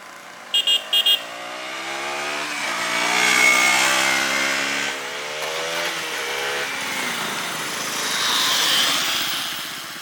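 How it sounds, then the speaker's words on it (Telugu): A 2024 KTM Duke 200 motorcycle being ridden, its exhaust droning steadily and rising and falling with the throttle, after a couple of short horn beeps at the start. "ఇది బైక్ రన్నింగ్లో ఉన్నప్పుడు ఎగ్జాస్ట్ సౌండ్"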